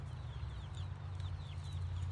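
Chickens around a bucket feeder build give soft, faint clucks and chirps over a steady low hum, with a few brief calls spread across the moment.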